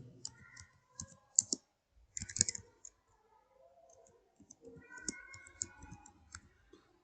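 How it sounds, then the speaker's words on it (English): Light clicking of a computer keyboard as someone types and presses the tab key, a run of quiet, irregular keystrokes close by with gaps between bursts and no talking. "press tab on your keyboard"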